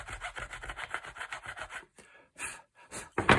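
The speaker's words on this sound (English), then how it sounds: "It's not a rasp, it's a metalwork file" Metalwork file rasping back and forth across a wooden gun fore-end, a quick series of rhythmic scraping strokes up close, followed by a few scattered rubs and knocks.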